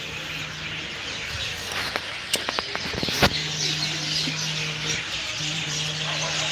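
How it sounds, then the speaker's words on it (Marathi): Many birds calling around the Dhayreshwar temple in Dhayari, Pune, a dense wash of chirps and tweets with a cluster of sharper calls midway, moderately loud against a steady low hum, with no speech. "इथं पक्ष्यांचा आवाज बघा किती येतो"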